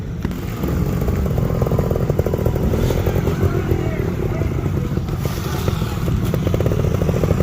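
A trials motorcycle engine runs steadily and loud nearby as the rider slips the clutch, with a constant buzzing drone and slight rises in revs; a coach's voice talks over it.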